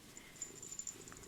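A pet cat purrs softly while snuggled up indoors, a faint, steady, low rumble with gentle pulses running through the whole moment.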